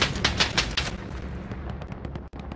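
Gunfire across an open field in the video game Hell Let Loose, with frontal and flanking fire: a rapid rattling burst of shots up front, then scattered distant cracks and pops as the firing thins out.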